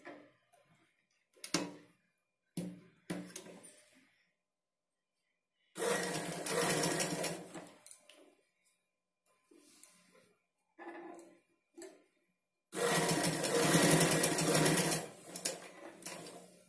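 A sewing machine stitches the front part of a blouse, running in two long loud bursts separated by quieter handling noises and short starts, with no one talking.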